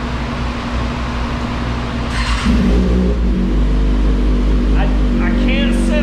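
A Kawasaki ZX-6R 636 motorcycle with a freshly flashed ECU idles with a steady low drone, then its engine revs up loudly and holds a strong roar, with someone talking over it.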